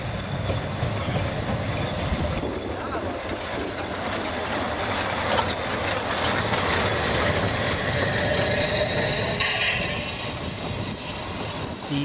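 Narrow-gauge steam locomotive 99-787 departing on the Zittau line in Germany: a steady, dense rolling rumble of engine and coaches with wheel noise and faint squeal, loud and continuous, no voices.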